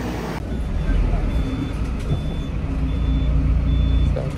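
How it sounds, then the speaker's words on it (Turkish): A bus pulls in on a street, its heavy diesel rumble steady and close, with regular high reversing beeps repeating over the traffic noise. "Ah! Geliyor bak otobüs."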